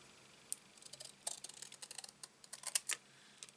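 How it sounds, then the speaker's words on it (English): Scissors snip through a paper card from corner to corner in a crafting session, a run of quick, crisp close-up cuts and clicks with no talking. "You're just going to cut these from corner to corner"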